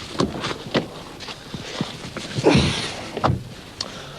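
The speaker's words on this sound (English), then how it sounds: "You can close the electric windows even after you've turned the engine off" Electric windows on a Citroën ZX hatchback whirring shut in short motor bursts, mixed with a few clicks and knocks inside the car, nearby and fairly quiet.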